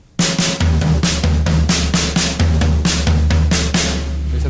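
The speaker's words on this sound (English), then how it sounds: "This is something called crossover patterns, and they enable you to get to certain melodic combinations on the drum set" A slow crossover pattern on a drum set, one hand crossing over the other: loud, evenly spaced hits with cymbal washes and tom tones in a steady rhythm.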